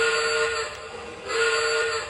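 A Lion Chief O-gauge toy locomotive plays its sound effects, a loud, steady steam-style whistle blast that dips briefly and then returns, heard close with no talking.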